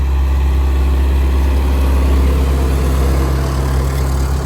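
Tractor engine idling, a loud, steady low diesel rumble with an even throb, running continuously and close by with no voices.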